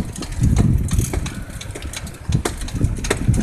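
A vehicle engine in need of a muffler change rumbles and idles nearby in a South Bronx street, with steady low throbbing and uneven bursts of louder revving.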